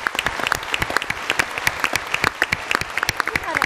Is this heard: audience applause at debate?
yes